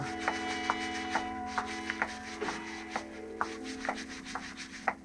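A brush scrubs a marble floor by hand in regular back-and-forth strokes, roughly two per second, close and moderately loud, with no voices.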